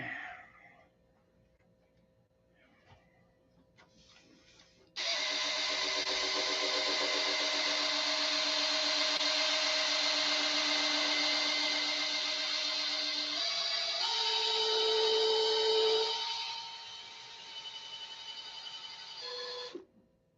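A buffer polishing a doped finish whines steadily for about fifteen seconds, its pitch shifting and load rising midway before easing off, with a faint quieter hum before and after.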